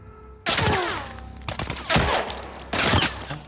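Machine gun fire in The Last of Us Part 2 rips out in loud, sharp bursts, with a long rattling volley followed by shorter repeated bursts and echoing tails.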